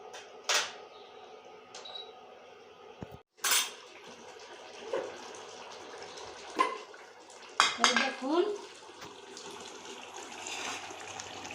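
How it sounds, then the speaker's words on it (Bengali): Fried eggs go into a pan of simmering egg curry gravy. Scattered metallic clinks and clatters of utensils and pan sound over a soft bubbling, with some faint background voice. "এখন আমি এই ভেজে রাখা ডিমগুলো আমি এখন দিয়ে দিচ্ছি"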